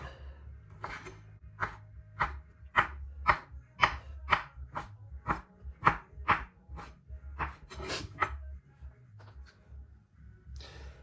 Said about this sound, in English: you could probably chop them lengthways, just like that